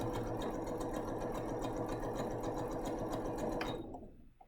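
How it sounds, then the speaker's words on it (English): A sewing machine runs fast and steady while stitching a quilt block, a close, even mechanical whir that holds for about four seconds before stopping abruptly. "And I'm going to sew."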